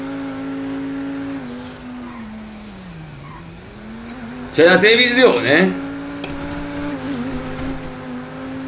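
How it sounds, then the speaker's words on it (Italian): Lamborghini engine in GTA 5, a steady tonal hum that dips and climbs with revs, briefly overlaid by a squealing burst midway while people talk in Italian. "c'è il rumore da Lambo"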